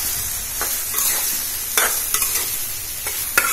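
Bottle gourd peel fries in hot oil while being stirred, giving a steady close sizzle and crackle broken by brief scraping strokes from the spoon, with no voices.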